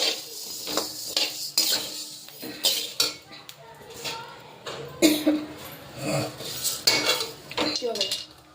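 Cinnamon sticks and turmeric roots are stirred and roasted in a pan for homemade Karnataka sambar powder, a spoon repeatedly scraping and clinking against metal in uneven strokes, close and fairly quiet.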